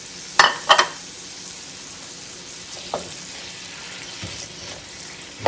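Chilies soften in melting butter in a pan, a faint, steady low sizzle close by, broken by a few sharp clinks and clatters of utensils near the start.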